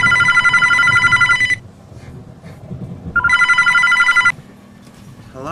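A telephone rings twice. Each ring is a loud, trilling bell lasting over a second, with a pause between rings and a faint low hum underneath.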